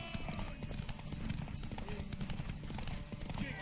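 Horse hooves clip-clopping in The Witcher 3 video game, a steady rhythmic trotting beneath game music and background noise, with a voice speaking over it.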